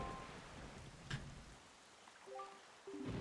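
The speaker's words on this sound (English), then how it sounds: "this place suffers under dark clouds and rain" Steady rain falls over a cursed island under dark clouds in the video game Wind Waker HD, a soft continuous wash with a brief brighter spatter midway and faint tonal game chimes near the end.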